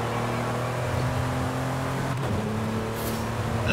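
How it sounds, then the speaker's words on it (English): A Porsche engine drones from behind the player's car during a Forza Horizon 5 race, a steady, sustained hum that shifts pitch slightly partway through, with no talk over it. "There's gotta be the Porsche behind me."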